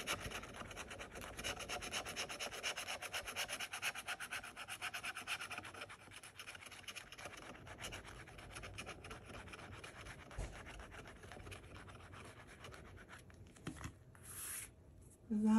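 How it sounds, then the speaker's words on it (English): Someone scratches off a Florida Gold Rush lottery ticket with a scratching tool, making a steady dry rasping rub in quick repeated strokes, close and quiet, with no talk. The sound tapers off near the end. "let me get my favorite scratching tool"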